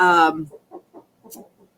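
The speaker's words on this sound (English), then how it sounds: "sorry for all the chickens back here, but they're making all these noises" Chickens cluck softly as they settle down to sleep: a brief human voice comes first, then a series of short, low, separate clucks follow at a steady pace, close by and fairly faint.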